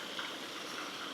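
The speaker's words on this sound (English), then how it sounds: "I hope you guys can hear the water" Waterfall on a Connecticut mountain hiking trail, a steady broadband rush of falling water heard alone with no voices, close and constant throughout.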